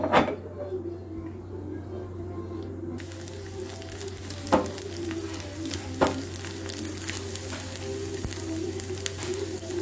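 Whole spices, cinnamon, cloves and cardamom, sizzle in hot oil for a sweet dal dessert, a steady crackling fry with occasional sharper pops against a constant low hum.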